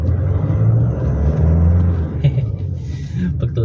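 A Nissan Navara pickup engine accelerates at around 1,000 RPM, a steady low rumble heard from inside the cab with a slight rise in pitch as it pulls, with a voice talking over it throughout.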